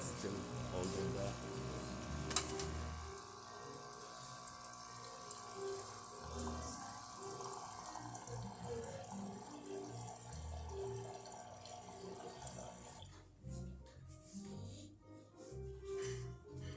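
A Breville Barista Pro espresso machine runs hot water during descaling, a steady close hiss and trickle of flowing water with faint machine hum, thinning and sputtering toward the end as a voice speaks over it.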